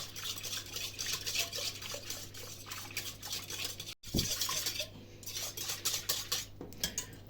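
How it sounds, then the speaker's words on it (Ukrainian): A whisk stirring liquid in a bowl to dissolve fresh yeast for bun dough, quick rhythmic clinking strokes against the bowl, close and fairly quiet, with one brief pause midway. "І нам треба це все перемішати до повного розчинення дріжджів."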